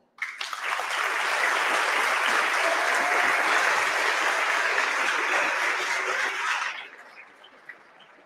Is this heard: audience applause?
yes